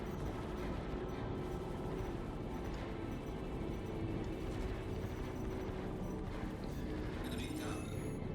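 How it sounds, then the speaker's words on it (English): Sustained volley of gunfire from several players shooting at once at a single target in the space game Star Citizen, a dense continuous barrage with rumbling low end, no speech over it. "So everyone's shooting at this thing at the same time."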